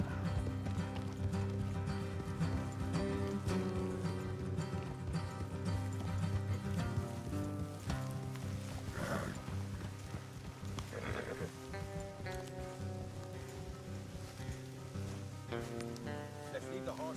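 Horses gallop along a road in a video game, a fast steady clip-clop of hooves, close and continuous, under spoken dialogue and music with an occasional whinny.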